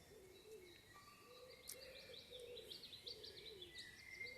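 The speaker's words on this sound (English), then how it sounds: "Dalkeith birds are feisty, very feisty creatures" An agitated bird calls in the Dalkeith woods of Midlothian, Scotland, a series of faint, repeated hooting and chirping notes over quiet outdoor background noise.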